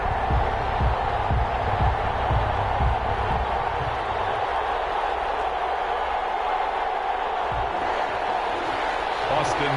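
Steady roar of a stadium crowd in the Madden 21 football game before a Bengals vs Saints kickoff, a dense continuous wash of cheering with low thumps early on.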